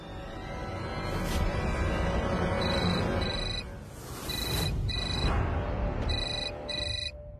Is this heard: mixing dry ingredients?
no